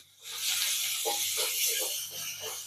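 Ginger garlic paste sizzles in a pan of frying onions, a steady close hiss with soft crackles running through the clip and no talking over it.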